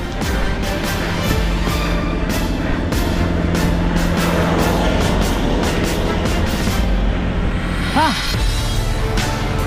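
Heavy vehicle labouring along a narrow, steep uphill road at Daang Pari in Antipolo, Rizal, a loud close engine drone with hissing air-brake bursts and clattering, then a rising whine near the end.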